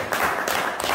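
A crowd applauds at the San Antonio Abad village festival in Tigaiga, in a short, dense burst of clapping under a second long that stays fairly loud and noisy throughout.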